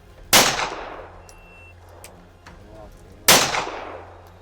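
Two loud pistol shots from a Taurus Curve fired at a target outdoors, roughly three seconds apart, each a sharp crack followed by a long fading echo.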